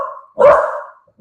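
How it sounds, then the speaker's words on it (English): A dog in a home garden barks once, loud and close, with a short trailing bark-like tail and the start of another bark cut off at the end. "The dog barks because the neighbour's kids kicked the ball in the garden."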